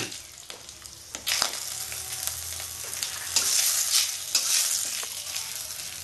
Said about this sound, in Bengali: একটু পাঁচফোড়ন দেবো, অল্প একটু মৌরি, কালো জিরা আর মেথি ফোড়ন দেবো।